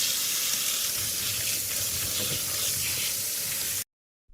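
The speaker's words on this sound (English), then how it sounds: "I will wash the blueberries." Tap water runs steadily over fresh blueberries being washed, a continuous broadband splashing hiss that stops abruptly near the end.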